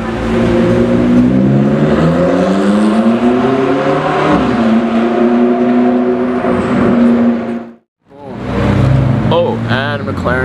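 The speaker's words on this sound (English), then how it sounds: "McLaren 600LT, all black MSO" An all-black McLaren 600LT MSO supercar accelerates hard past, its loud engine note climbing through the gears before cutting off, then a second engine burst follows; voices are heard faintly.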